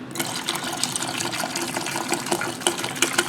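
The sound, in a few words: pouring Dr. Pepper into marinade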